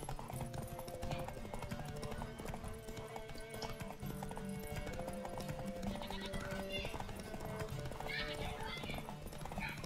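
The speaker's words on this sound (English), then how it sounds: "Run, Roach" Horse hooves clip-clop at a steady gallop in The Witcher 3, with an occasional whinny, set under a dense, continuous layer of game music and ambient sound.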